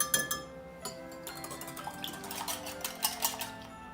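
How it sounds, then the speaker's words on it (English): Eggs whisked quickly in a bowl while making gingerbread waffles give off faint, quick metallic clinks and taps in an irregular rhythm against a quiet kitchen background. "We'll stir in a couple of eggs after we give them a quick whisk up to lighten them."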